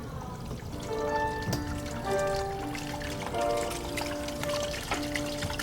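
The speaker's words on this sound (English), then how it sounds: "He's gonna run the shower now." Water running from a shower and leaking through a wall, trickling and pouring steadily with scattered drips and splashes, close and continuous, with no speech.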